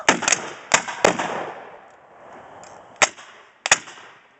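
A ceremonial rifle volley fired at a tombstone ceremony: a handful of sharp, loud outdoor gunshots in a ragged sequence, each cracking out and fading with a brief echo, and a pause before the last two.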